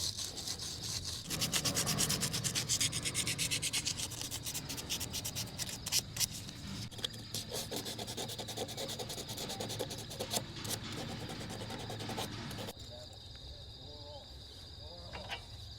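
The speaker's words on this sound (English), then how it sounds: "They could probably do with a bit of sandpaper really to get them back to the copper." Sandpaper rubs against corroded truck battery cable terminals on a long-idle Cummins-powered truck, a close, continuous scratchy rasp with rapid back-and-forth strokes that ease off near the end.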